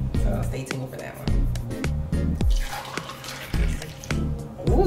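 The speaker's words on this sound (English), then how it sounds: "Ooh, that was a good pour." Juice pouring into a container, a wet gurgling splash with dripping, heard close beneath people chatting throughout.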